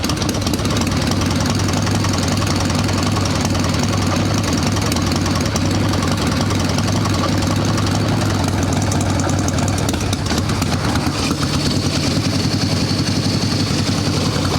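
A chopper built from an Evo Sportster motorcycle idles loudly and steadily at close range, its engine thumping and knocking at an even pace with no talk over it.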